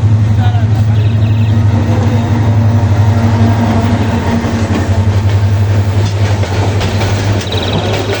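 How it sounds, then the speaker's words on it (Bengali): Train rumbling past the Azimpur railway level crossing amid a heavily jammed road, a loud steady low rumble with rail clatter throughout, mixed with traffic noise and voices of people nearby. "ট্রেন কিন্তু চলে আসছে। এটা হলো আজিমপুর রেল গেট।"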